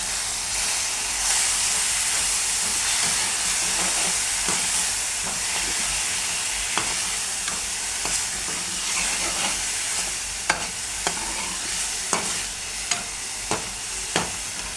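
Spice masala roasts in a pan with a steady broadband sizzle throughout, joined by sharp stirring scrapes and taps that grow more frequent in the second half.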